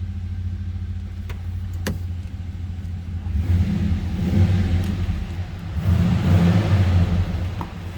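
A 2004 Pontiac GTO coupe's engine runs with a deep exhaust note, idling as a low rumble and then swelling in two loud revs, heard close and alone.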